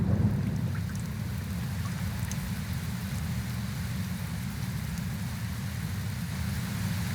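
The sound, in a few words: rain falling with thunder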